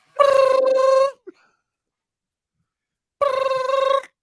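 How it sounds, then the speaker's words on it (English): A telephone rings with an unusual warbling ringtone in two loud, close bursts of about a second each, separated by a few seconds of silence, with no talking. "Nobody's phone rings like that."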